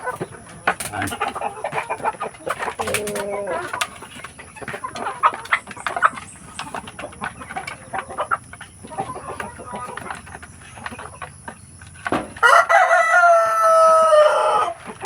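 Farm poultry in a dark coop room holding one rooster and five hens: scattered clucking and rustling throughout, then a loud, close rooster crow near the end.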